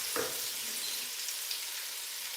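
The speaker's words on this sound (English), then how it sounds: "after you put your onions, all you have to do is just keep on stirring" Onions frying in a pan for Nigerian meal prep give a soft, steady sizzle, with one stirring scrape near the start and then a quieter, even crackle.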